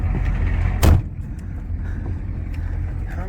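Ford truck door shut once with a single sharp thud early on, followed by the low steady rumble of the idling engine.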